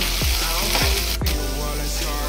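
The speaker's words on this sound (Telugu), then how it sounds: "బెండకాయలు అయితే లోపల బంక పోయే వరకు వేగించుకోవాలి" Okra (lady's finger) frying in hot oil for an Andhra-style curry, a constant bubbling sizzle with three distinct swooping downward tones spaced about half a second apart, close and steady.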